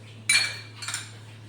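A metal spoon taps against a pot as almond, cashew and pistachio slivers go into bajra raab, two brief ringing clinks in quick succession, close, over a faint steady hum.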